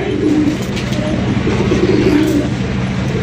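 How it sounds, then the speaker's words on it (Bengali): Pigeons at a wholesale pigeon market in Gazipur give soft, repeated coos close by, over a steady bustling background. "এটা কবুতর"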